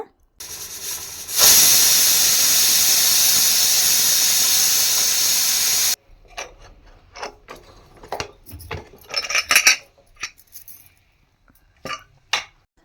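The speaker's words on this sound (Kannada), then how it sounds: "ಒಂದರಿಂದ ಎರಡು ವಿಸಿಲ್ ಆದಮೇಲೆ ಆಫ್ ಮಾಡ್ಕೋಬೇಕು" A pressure cooker cooking egg biryani in a home kitchen vents a loud, steady hiss of steam for several seconds, then it stops abruptly and scattered clinks of pots and utensils follow.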